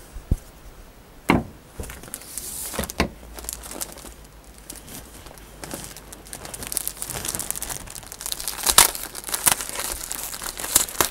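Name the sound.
cutting a sheet of carbon fibre cloth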